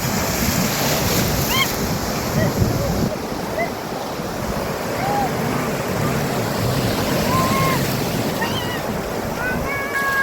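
Sea surf rolls onto the beach at Ganapatipule in a continuous, fairly loud wash with wind noise, and faint high chirps appear now and then.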